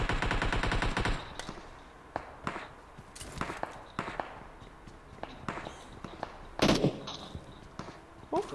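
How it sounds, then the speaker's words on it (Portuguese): In a mobile shooter game on an iPhone 8 Plus, a rapid burst of automatic gunfire is followed by scattered single shots and footsteps, with another loud burst near the end. "Esse maluco atirou em mim, velho."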